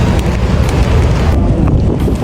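Wind buffets a microphone outdoors, giving a steady, loud low rumble that runs unbroken through the whole stretch with no voices.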